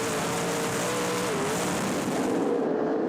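Sprintcar engine roaring steadily from an onboard camera during a World Series Sprintcars Australia race, loud and continuous with a droning pitch that shifts slightly, wind and rumble blending in, no talking.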